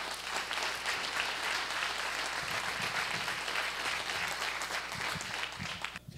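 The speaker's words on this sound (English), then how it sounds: "Let's give Chris a round of applause, everybody." Audience applause at a live event with Chris Pirillo, a dense continuous patter of many hands clapping at steady volume, tapering slightly at the very end.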